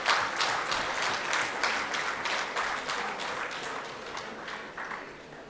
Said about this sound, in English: we'll have to keep the applause going for the rest of the evening